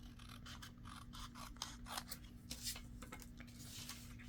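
Scissors snip through a paper envelope in a quick run of crisp, close cuts, each a sharp papery crunch, faint and steady with no talking.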